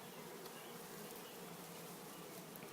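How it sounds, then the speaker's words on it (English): Bees buzz in a steady, dense drone, close to the microphone with no other sounds. "Bees are already around it."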